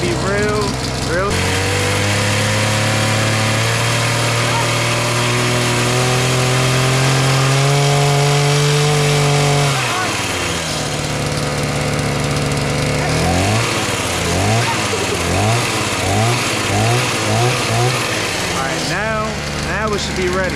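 A stunt mini bike engine warming up, running loudly and steadily with rising and falling revs and a burst of throttle blips near the end, with voices faintly under it.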